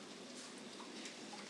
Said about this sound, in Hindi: बारिश का आप भी आनंद उठाइए।